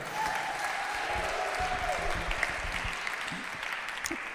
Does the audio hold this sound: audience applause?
yes